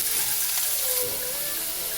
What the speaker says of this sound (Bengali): আলুটা ভেজে নিচ্ছি প্রথমে